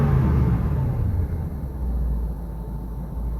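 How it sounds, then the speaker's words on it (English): A car engine revs in a quick burst and then settles to a low steady rumble, close and loud, with no talk. "If you can hear the rev compared to the RPMs, it is basically instant."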